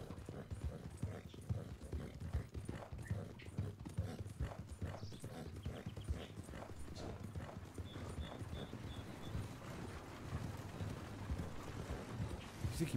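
Steady clip-clop of horse hooves in the video game Red Dead Redemption, a continuous trotting rhythm close and clear over faint wind, with a brief whinny-like tone midway.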